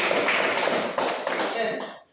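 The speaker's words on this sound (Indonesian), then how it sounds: "tepuk tangan dulu untuk." Classroom audience clapping after a group presentation in a teacher training session, a dense steady patter of many hands that fades out toward the end.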